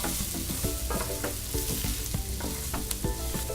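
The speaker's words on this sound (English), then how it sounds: "And I'm just moving those around the pan. That's going to toast them up nicely." Ground ginger and cumin toast in a pan while being stirred, producing a continuous loud sizzle with frequent scraping stir strokes over background music.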